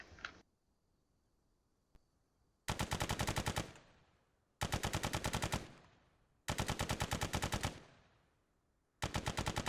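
A drum-fed machine gun firing in Arma 3, a Russian weapon produced between 1928 and 1950, heard as four loud sustained automatic bursts of rapid, evenly spaced shots, each followed by a fading echo and separated by brief quiet gaps.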